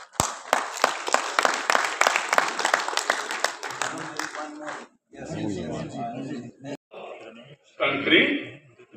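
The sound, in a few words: audience applause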